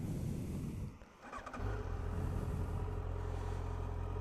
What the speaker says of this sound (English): So we turn on the bike